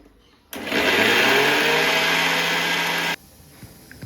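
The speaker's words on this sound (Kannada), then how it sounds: "ಅದನ್ನ ಮಿಕ್ಸಿ ಮಾಡ್ಕೋಬೇಕಾಗತ್ತೆ." Mixer grinder blending fried tomato with spices, a steady high whirring motor run of about two and a half seconds that starts and stops abruptly, loud and close.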